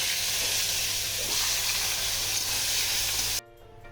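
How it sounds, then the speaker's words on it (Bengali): A rohu fish head, rubbed with salt and turmeric, frying in hot oil in a wok with a steady, loud, close sizzle that cuts off abruptly near the end. "প্রথমে আমি রুই মাছের মাথাটা ভেজে নেব"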